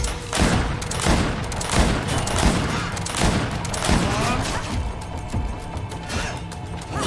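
Rapid bursts of gunfire from the video game GreedFall crack repeatedly and loudly over about seven seconds, dense volleys close together with slight breaks and thinning toward the end.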